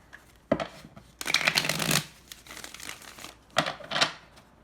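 Tarot cards from the Deviant Moon deck shuffled in several quick riffled bursts, crisp and close, separated by short quiet pauses.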